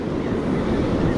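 Ocean surf rolling onto an Oregon beach, a loud, close, broad wash of water with wind buffeting the microphone, steady across the moment.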